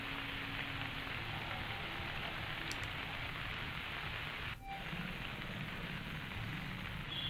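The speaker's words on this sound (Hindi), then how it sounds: "लगातार बारिश हो रही है।" Heavy, continuous rain falls steadily, a dense even hiss of drops on surfaces with no let-up, moderately faint and without voices.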